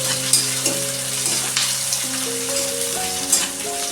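Chopped tomato fries and softens in a hot pan, giving a loud steady sizzle with occasional soft stirring scrapes and faint pops. Close by, with no talking.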